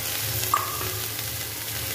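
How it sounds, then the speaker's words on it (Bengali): Onions and chilies fry in a pan, giving a steady close sizzle with a faint stirring scrape partway through and no talking. "লাস্টে পেঁয়াজ আর লঙ্কা দিয়ে একটু ভেজে নেব"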